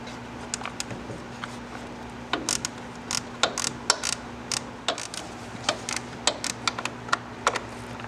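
Car interior trim in a BMW F30 is worked loose by hand, giving irregular sharp clicks and plastic snaps over a faint steady hum, close and moderately quiet.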